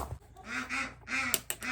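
Several ducks quack repeatedly nearby in short nasal bursts, with a couple of sharp knocks mixed in.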